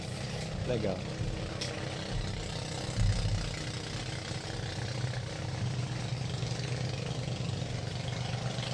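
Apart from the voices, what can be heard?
boat engine passing by on the Amazon river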